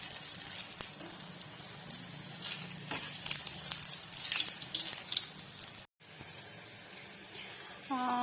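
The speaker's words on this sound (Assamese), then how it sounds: "এনেদৰে আমি এটা এটাকৈ ভাজি ল'লোঁ" Pieces of food frying one at a time in hot oil for red gourd flower fritters, a steady sizzle broken by a brief drop and a few water-like clinks.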